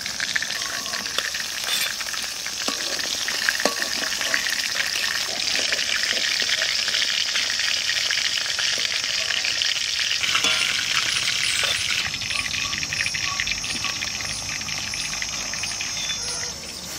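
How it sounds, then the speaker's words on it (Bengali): Hilsa fish frying in hot oil gives a steady, dense sizzle with crackling spatters that runs unbroken at close range throughout, with no talking. "মাছ ভাজা হয়ে গেছে, তুলে নেব।"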